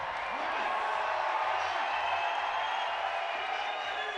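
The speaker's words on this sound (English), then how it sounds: "Getting plenty of encouragement for the crowd" Inside the arena at the Meiringen 2018 bouldering World Cup men's final, the crowd keeps up steady cheering and encouragement for a climber as a broad, continuous wash of noise, with a commentator speaking over it.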